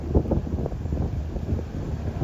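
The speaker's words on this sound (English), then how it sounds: "It's getting windy." Gusty wind on a hike at Smuggler's Notch, Vermont buffets the microphone in low rumbling surges, loud and continuous, with no voices.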